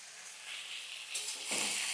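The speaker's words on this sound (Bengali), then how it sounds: "ফুলগুলো দিয়ে এটাকে ভালো করে নাড়তে শুরু করব।" Drumstick flowers fry in a pan as they are stirred, giving a soft steady sizzle that swells into louder hissing bursts toward the end, with no speech.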